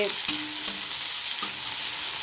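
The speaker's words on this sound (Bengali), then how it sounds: "আর একটু টমেটো কুচি ভালো করে এগুলো নাড়িয়ে নেব" Chopped tomatoes frying in a pan as they are stirred to soften, a continuous close sizzle broken by a few soft scrapes of the spoon, no talking.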